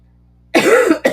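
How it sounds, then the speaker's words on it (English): A person's cough, from someone who has a COVID cough: two harsh, close bursts after a moment of quiet, the first long and rough and the second short and sharp. "my little COVID cough is kicking in"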